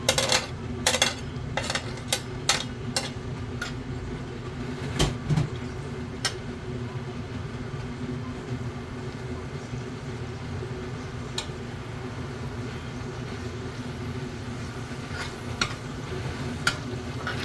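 Meat frying in a pan, a close, continuous low sizzle with a burst of sharp metal clinks and scraping from utensils at the start and a few scattered clicks later, no voices.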